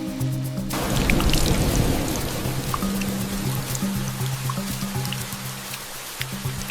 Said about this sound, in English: rains began, not as a storm, but as a systematic, atmospheric release